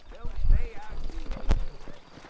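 Rhythmic clip-clop of horse hooves in Red Dead Redemption, brief and fairly close, with a voice speaking over the galloping steps.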